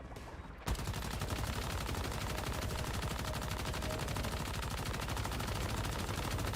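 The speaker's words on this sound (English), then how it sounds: "LMG bullets." Light machine gun in Once Human opens up after a short quiet moment and keeps firing in one long, rapid, unbroken burst, loud and close.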